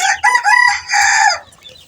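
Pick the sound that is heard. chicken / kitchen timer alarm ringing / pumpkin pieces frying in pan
chicken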